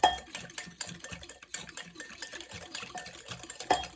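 A spoon or whisk stirs a vegan pastry mixture in a bowl until it is smooth, giving close, quiet, rhythmic scraping and clinking strokes that repeat quickly.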